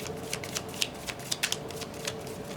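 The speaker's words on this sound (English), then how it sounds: "I'm going to pull 12 cards" Tarot cards are shuffled in the hands, a soft, steady run of quick riffling flicks and light papery snaps, close and quiet with no talking.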